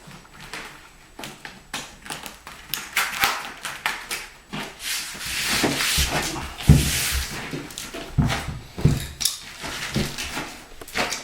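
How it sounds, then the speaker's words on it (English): Adhesive edge strips are peeled and pressed around the perimeter of a room's floor during a radiant heated floor install, giving irregular crinkling, tearing and tapping handling noises that build in the middle and continue close by. "Now it's as easy as peel and sticking our edge strips around the perimeter of the room."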